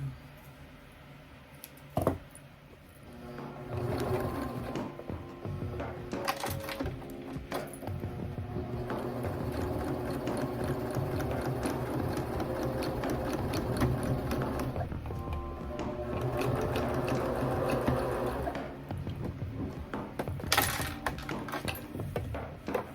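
Sewing machine stitching a drawstring backpack, whirring in steady bursts with clicks and clinks between runs, close and fairly loud.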